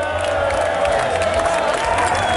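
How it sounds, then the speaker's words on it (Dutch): A loud outdoor festival crowd at a tribute concert in Boxmeer's Muziekpark claps and cheers for the volunteers, a dense, continuous roar of applause with whoops. "Nogmaals een heel hard applaus voor onze vrijwilligers."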